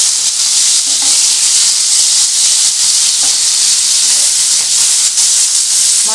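Bhetki fish fillets seasoned with lemon juice, salt and pepper fry in a pan, giving a steady, loud, close sizzle and hiss of hot oil with faint clinks of stirring throughout.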